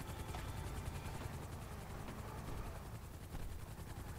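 A helicopter hovers in GTA Online, a steady loud rotor drone with rapid regular blade chop that stays close and constant throughout, with no talk.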